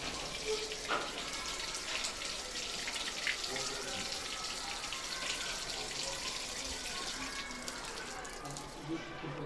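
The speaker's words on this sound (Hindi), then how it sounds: "पानी गिरता हुआ लो इसमें।" Water runs from a tap in a school lab, a steady hissing, splashing stream that continues throughout at moderate level, with faint voices and room noise in the background.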